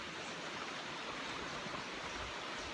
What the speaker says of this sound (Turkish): Ne kadar güzel akıyor. Şırıl şırıl akıyor.